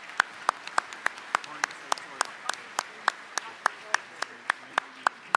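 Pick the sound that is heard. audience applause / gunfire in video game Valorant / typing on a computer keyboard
audience applause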